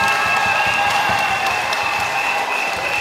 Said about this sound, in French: Applaudissez pour vous.